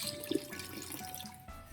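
Fish sauce poured from a bottle over beef in a pressure cooker makes a brief, soft liquid splash and drip, faint and close, lasting under two seconds.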